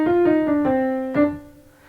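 Piano notes in a dotted quaver rhythm, a handful of clear struck tones with a quick short note slipped in before the next beat, played alone and fairly close.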